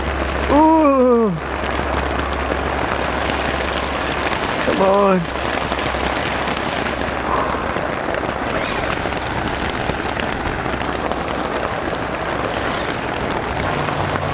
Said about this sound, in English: rain is sprinkling in on my back right now